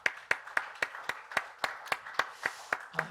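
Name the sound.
church congregation applauding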